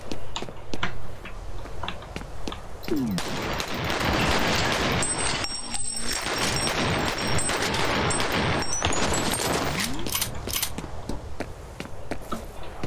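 Rapid bursts of automatic gunfire and single shots from the shooter game F.E.A.R., loud and sustained across the whole stretch with brief pauses, and footsteps mixed in.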